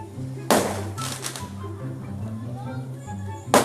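Firecracker sound effects crackle in the FC Mobile football game, with sharp bursts near the start, a short crackling run after, and another burst at the end, over background music.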